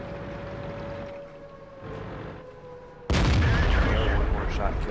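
A ship's gun fires in a naval video game, a sudden loud booming blast with rumbling tail that cuts in after a quieter stretch of engine hum and ambient noise.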